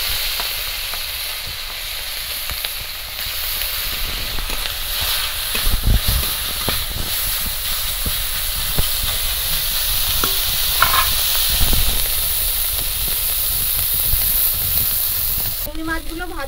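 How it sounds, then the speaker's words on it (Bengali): Shrimp fry in hot oil with a dense, unbroken sizzle and hiss close by, and occasional faint utensil knocks; no one speaks. "এই তেলের মধ্যে চিংড়ি মাছগুলো ভেজে নেব।"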